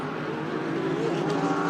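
GT3 race cars roar past the start-finish line at the Red Bull Ring, a steady loud blend of high-revving engines with no break.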